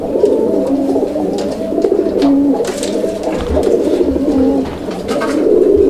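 Madrasi golla pigeons cooing close by, a steady chorus of low throaty coos repeating throughout without any talking.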